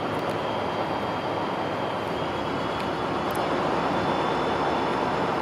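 A diesel train locomotive idles at Camarillo, a steady, broad rumbling drone with a faint high tone running through it, continuous and fairly close, with no one talking.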